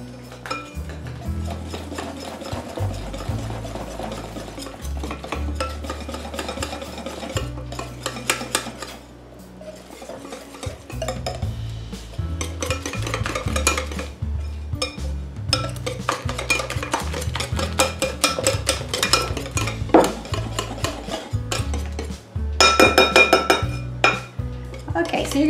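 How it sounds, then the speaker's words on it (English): Yorkshire pudding batter is whisked briskly in a bowl, giving continuous close scraping and clinking of utensil against the bowl in a steady rhythm. "you're gonna mix this up really, really, really good"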